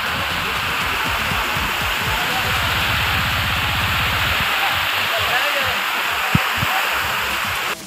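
Fast-flowing water rushes at an Eco Park water park, a steady loud broadband roar that fills the whole stretch, with a low rumbling undertone and a brief knock near the end.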